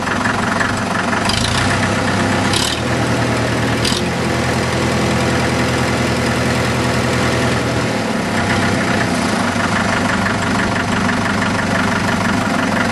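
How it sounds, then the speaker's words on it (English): A Farmall Super MTA diesel tractor runs at raised throttle, its engine giving a steady, loud, continuous low rumble with a regular knocking beat, heard alone throughout with no talking. "Raise the throttle up, raise the RPMs a little bit so you can hear it run from this"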